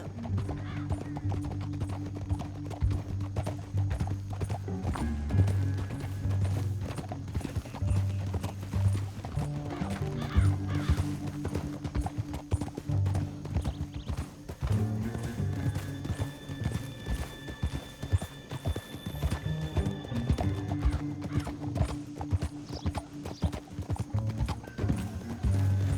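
Horses galloping in Red Dead Redemption 2, with steady loud hoofbeats and several whinnies and neighs over a long stretch, game music and ambience underneath, no clear talk.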